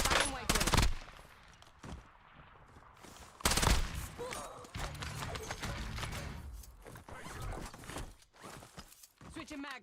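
Dravik gunfire in a Warzone Resurgence video game: rapid automatic bursts in short volleys with gaps between them, loud and close, with a voice talking over parts of it.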